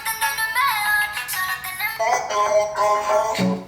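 A pop song sample, thinned by low-cut and high-cut EQ, plays as a continuous, moderately loud musical passage with no talking.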